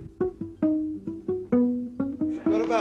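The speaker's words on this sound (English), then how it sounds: "you can make a pizzicato sound like this" A classical guitar is played pizzicato, giving a short run of muted, plucked notes, about ten damped attacks in under three seconds, close and soft, with the final notes ringing slightly brighter.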